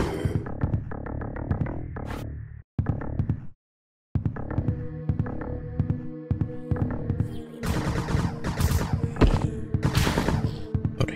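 Rapid gunfire from the Windows 95 screensaver game Freakhunter, shooting at freaks, crackles in dense volleys and bursts across most of the stretch, broken by a brief silent gap near the start.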